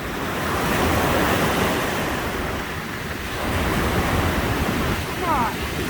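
Waves surge steadily onto a rocky creek shore, a loud continuous wash of surf swelling and easing, with wind buffeting the microphone.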